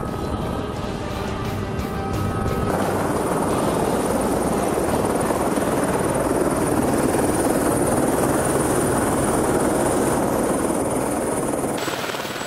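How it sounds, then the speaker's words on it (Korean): A helicopter arrives at a glacier summit on New Zealand's South Island, its loud, steady rotor and engine roar filling the whole stretch up close, with a high whine running through it. "드디어 헬기가 정상에 도착했습니다."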